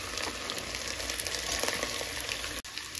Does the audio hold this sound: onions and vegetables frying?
yes